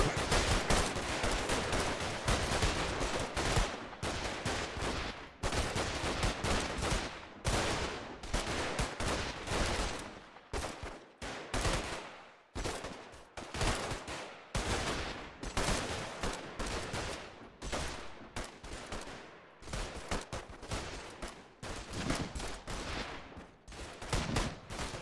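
Gunfire erupts right after an order to fire, with dense, loud, near-continuous volleys of shots and rapid bursts that keep going for about twenty-five seconds, with no talking over them.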